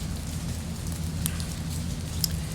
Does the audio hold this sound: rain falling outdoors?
yes